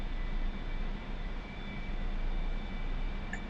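Steady roaring jet engine drone of an A-4 aircraft in a flight simulator game, broad and continuous, holding a constant level throughout with a faint high whine on top.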